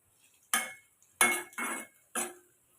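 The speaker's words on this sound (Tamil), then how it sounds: "இப்போ பாவக்காயுமே நமக்கு நல்லா எண்ணெயிலே நம்ம வதக்கி எடுத்தாச்சு." A utensil scrapes and clatters against a pan of bitter gourd sautéing in oil, making four short, loud bursts separated by quiet gaps, with no talking.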